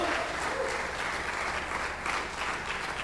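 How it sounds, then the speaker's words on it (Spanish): Steady applause from a sizable church congregation, a dense wash of clapping that holds at an even level throughout with no voices standing out. "Si le vas a dar un aplauso, dale un gloria a Dios esta mañana"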